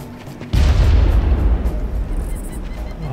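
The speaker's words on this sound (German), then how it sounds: "Und bewerfen uns mit Granaten" A grenade goes off in the shooter game Far Cry with a loud, deep boom, followed by a rumbling tail that slowly fades over the next few seconds.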